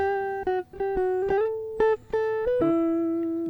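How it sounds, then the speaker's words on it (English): Dry, clean Ibanez JS1000 electric guitar on the neck pickup, plugged straight into an audio interface with no effects, playing a short legato melodic phrase of sustained single notes with slides and bends, clear and close. "what you're hearing there is an Ibanez JS1000 on the neck pickup, direct into the audio interface"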